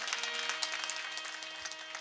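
A seated audience at a Marathi kirtan claps for a female mridang player, steady dense applause with a faint sustained tone beneath it.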